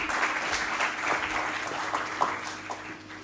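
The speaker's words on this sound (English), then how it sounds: "A huge round of applause for them, everyone." Audience applause at a healthcare summit, a steady wash of many hands clapping together at moderate distance, sustained for several seconds and tapering slightly at the end.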